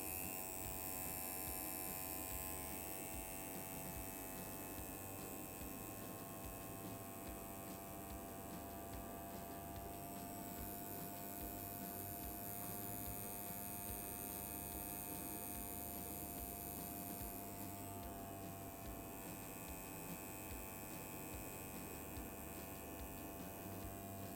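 A coil tattoo machine buzzing steadily while lining, a constant electric hum with a bright metallic whine, running alone without talk throughout.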